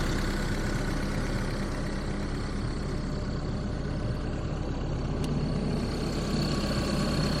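Kobelco SK75SR-7 excavator with a Yanmar engine idling, a steady, even diesel drone with a constant low hum and faint higher whine, unbroken and fairly loud throughout with no talking.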